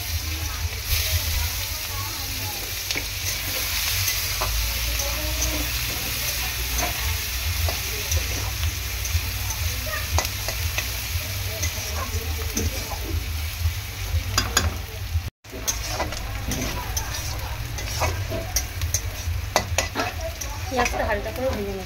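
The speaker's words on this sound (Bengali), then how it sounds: "পেঁয়াজটা হালকা করে ভেজে নেব।" Chopped onions frying in oil over a cumin-seed tempering, cooked for a pabda fish curry; a steady close sizzle runs throughout with repeated stirring scrapes and clinks.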